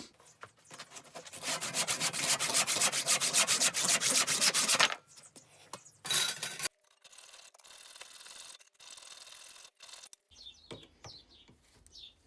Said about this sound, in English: it's just constant hand filing to get those curves in